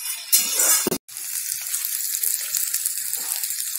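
Flat beans and eggplant fry in a pan with a steady, close sizzling hiss, a brief louder burst just before a momentary dropout near the one-second mark, then continuous crackling frying to the end.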